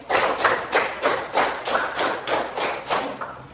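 A group of schoolchildren claps in unison, a steady run of roughly ten close, loud hand claps forming a five-beat pattern done twice.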